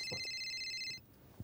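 An incoming call rings on a mobile phone as a steady electronic ringtone for about a second, close and clear, then cuts off. A faint voice murmurs underneath.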